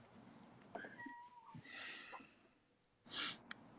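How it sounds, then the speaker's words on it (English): A cat meows faintly in a quiet room, with a couple of soft cries followed by a sharper, louder one near the end, and no talking. "Do you hear the cat?"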